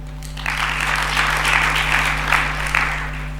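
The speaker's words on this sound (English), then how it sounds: "A round of applause for her." Audience applause at an electric vehicle handover ceremony, a steady broadband wash of many hands clapping that swells after a brief start and holds for about three seconds over a low electrical hum.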